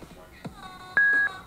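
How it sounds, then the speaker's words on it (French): Logitech X100 Bluetooth speaker sounding a short electronic beep as its volume is pushed to maximum, one clear steady tone held for about a third of a second among quieter clicks and button noises. "Quand vous poussez trop le volume, vous voyez que ça clignote. Enfin, ça fait un petit bip."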